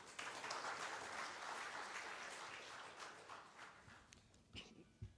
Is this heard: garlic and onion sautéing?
no